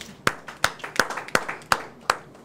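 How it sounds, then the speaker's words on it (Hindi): Rhythmic applause at a Hindi poetry gathering, six or seven crisp, evenly spaced claps in unison, fairly faint, each a sharp single hit with quiet gaps between. "आपकी जोरदार तालियों के बीच"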